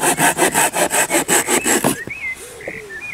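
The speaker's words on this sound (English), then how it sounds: "So you grab your saw. This one's a Barco Laplander." A Bahco Laplander folding saw cuts through wood outdoors in the woods, giving about nine quick, evenly spaced rasping strokes up close before stopping, followed by faint birdsong.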